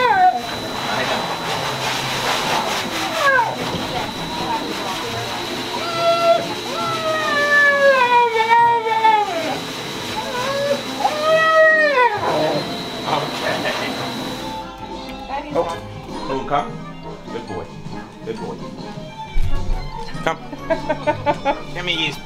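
A husky being dried after a bath whines and yowls in long rising and falling cries over the steady hum of a dryer, close by, with a person talking to the dog.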